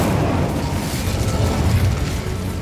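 Incendio fire spell cast in Hogwarts Legacy, a loud, sustained roaring burst with a heavy low rumble that holds steady for a few seconds.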